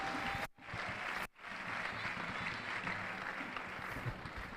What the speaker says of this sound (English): You stand up and clap for your Vice-Chancellor.